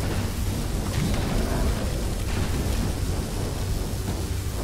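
A thunder spell cast in the video game Magicka rolls as a steady, broad rumble with crackling texture, sustained at moderate level for several seconds with no voices over it.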